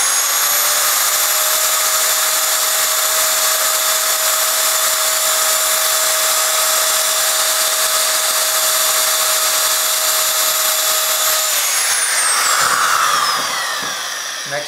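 An Amigo pipe threading machine runs in reverse with a loud, steady motor whine and tonal hum held for about twelve seconds. The pitch then sweeps and shifts as the machine changes over and winds down, with no talking.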